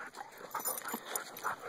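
Two pet dogs, Buster and Toby, whimper in short, close, high-pitched whines, several quick cries following one another in a brief burst.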